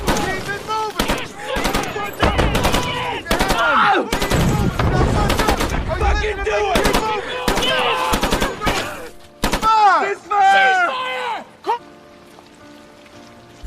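Gunfire rings out during a military training scene from the film Jarhead: loud, rapid bursts and single shots crack repeatedly, mixed with shouting voices, then thin out into scattered shots and a quiet tail.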